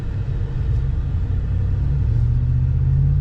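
A 2021 Ford F-150 Black Widow lifted pickup accelerates, heard from inside as a loud, steady low engine and exhaust rumble with road noise that holds throughout.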